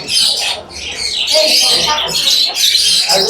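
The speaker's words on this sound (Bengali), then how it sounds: "অনেক সুন্দর জাবা পাখিগুলো।" Birds squawking and chirping at the Mirpur 1 bird market in Dhaka, which sells macaws and cockatoos, with a continuous bright chorus of calls mixed with people talking nearby.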